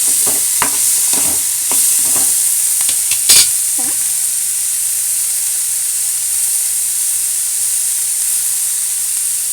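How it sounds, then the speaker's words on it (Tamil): Carrot for chutney sautés in a pan with an even loud hiss of sizzling oil; a few stirring scrapes and a spoon knock come early, then the frying continues alone. "கேரட்டோட பச்சை போகணும். போகிற வரைக்கும் வதங்கட்டும்."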